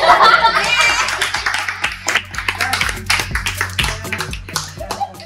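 A family gathered at a villa claps together, a dense burst of applause that thins into scattered claps, with some laughter mixed in.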